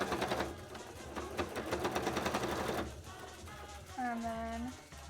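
A sewing machine runs a top stitch on soft, squishy fabric covers for wings, its rapid needle chatter running steadily for a few seconds before stopping, followed by quieter handling sounds and a short hum.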